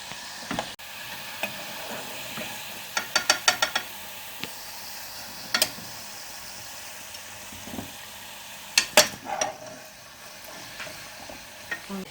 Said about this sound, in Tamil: இப்போ எண்ணெய் சத்தெல்லாம் அடக்குது.